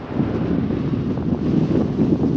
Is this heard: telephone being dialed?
no